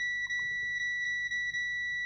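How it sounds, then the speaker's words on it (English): A multimeter sounds a steady, shrill continuity beep while testing a broken micro arcade game, close and fairly quiet, with a few brief dips as the probes lose and regain contact. "let's just check we've got continuity on that now"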